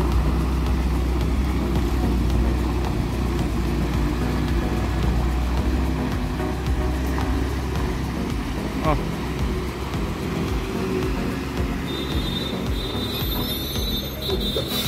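Vehicles and trucks labour up the Chilpi Ghati mountain road in Chhattisgarh, a continuous low engine drone with some brighter tones near the end, while people talk over it.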